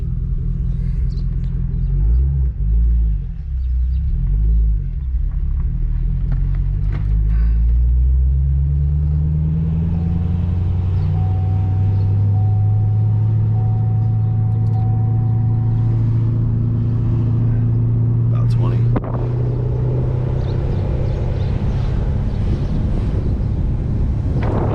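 A car driving on the road with a steady low engine rumble and buffeting wind noise, the engine pitch climbing and shifting as it speeds up and changes gear, a faint whine in the middle, and no talk.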